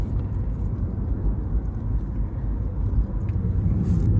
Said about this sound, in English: we're in a queue of traffic as normal